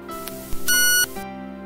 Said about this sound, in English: To switch the Stream on, hold down the on-off key.